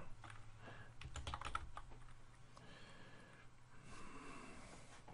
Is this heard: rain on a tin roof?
no